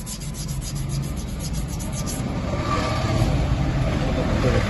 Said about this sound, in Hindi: देखो ऐसे साफ करें इनको, नया रेग मार लें,